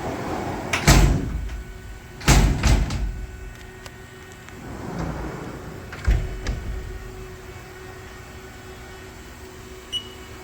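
An enclosure door on a 2018 Haas VF-4SS CNC vertical machining center slides shut in a quiet shop, giving a few sharp clunks and thuds spread across the stretch, with a faint rumble between them and no talking.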